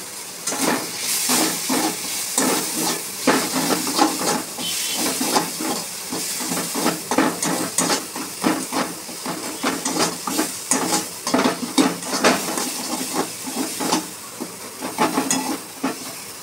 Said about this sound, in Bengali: কুচি করা টমেটো দিয়ে দেব।